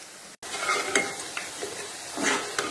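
Bhajiya, gram-flour fritters, frying in hot oil: a steady close sizzle broken by a few stirring clinks and scrapes against the pan, with no voices.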